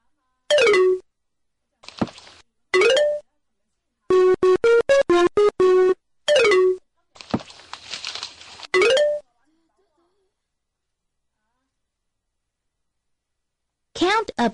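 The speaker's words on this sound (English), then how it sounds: "Let's hear the music." Music from the Reader Rabbit Math video game plays as short bright electronic jingles with chiming tones, in separate bursts between pauses and mixed with a voice.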